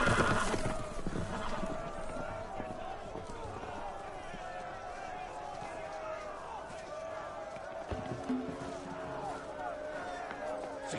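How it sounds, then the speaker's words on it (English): Horses running loose in a Game of Thrones video game, whinnying and hooves clattering under shouting voices, with a busy battle-like din throughout and a heavier thump near the end. "The horses! They're loose!"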